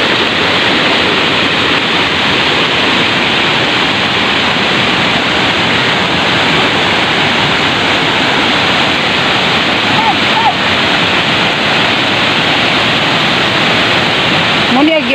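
Panas Falls, a waterfall in New Corella, Tagum, pours with a loud, steady, dense rush of water close by, filling the whole stretch without a break.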